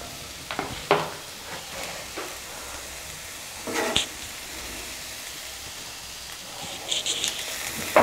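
A cabbage stir-fry (poriyal) with grated coconut is stirred in a pan. Soft scraping strokes and occasional clinks ride over a faint, steady sizzle.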